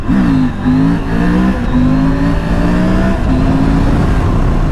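A KTM 890 Adventure R motorcycle engine accelerates on a ride, a loud, close, steady drone whose pitch climbs and dips through several gear changes.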